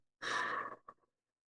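A single audible breath taken during a guided breathing exercise, one clear airy intake lasting about half a second, followed by a small soft catch, close to the microphone in otherwise near silence.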